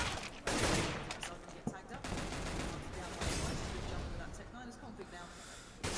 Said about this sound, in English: Device finishes it with the Tech 9 and some blind fire through that window